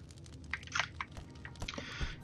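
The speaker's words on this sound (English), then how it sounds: "If you hear some munching in the background, it's because I got some off-brand Doritos" Off-brand Doritos-style tortilla chips crunched and chewed close up, a series of irregular crisp bites and munching over about two seconds, fairly quiet.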